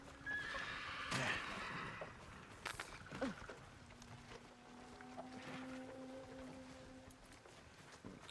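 Horses neigh and whinny amid clip-clopping hooves in the video game Ghost of Tsushima, with a loud whinny early on and softer calls and tones continuing underneath, no speech.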